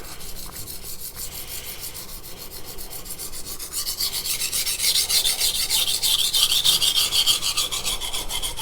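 A 210mm Yoshikazu Ikeda honyaki gyuto in White #2 steel rasps back and forth on a grooved whetstone, a close, rhythmic scraping that grows louder and coarser partway through.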